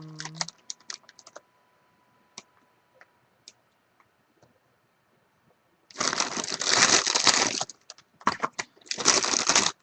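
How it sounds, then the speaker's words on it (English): Plastic packaging crinkled by hand while sorting card-making supplies, a few faint ticks at first, then two loud, dense bursts of crackling rustle in the second half. "sorry for the crinkle."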